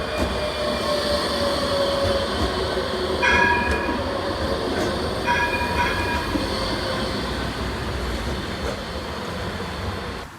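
Nottingham tram at High Road Central College stop in Beeston rumbles steadily close by, a dense mechanical drone with faint squealing wheel tones and brief bright bursts, continuous throughout with no talk.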